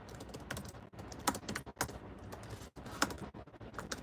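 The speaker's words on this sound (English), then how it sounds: "I'm just typing something." Quick, uneven clacking of keys on a computer keyboard, close and clear, with short pauses between bursts of typing and no voices.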